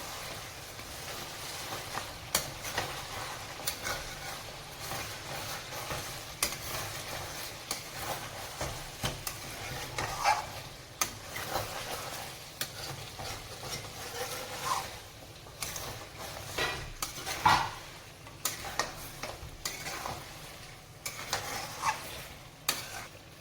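Mutton is stirred and sautéed in spices in a pan: a low bed of sizzling under repeated scraping strokes of a spoon against metal, irregular and close, with no talk.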